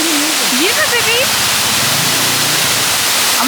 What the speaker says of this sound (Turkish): Ama güzel şelale.